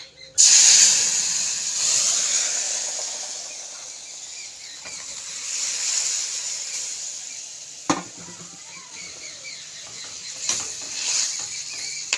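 Boiled dal poured into a pan of hot fried tempering for a turnip or kohlrabi dal: a loud, sudden sizzling hiss bursts out, then settles into a steady, softer sizzle with occasional stirring clinks.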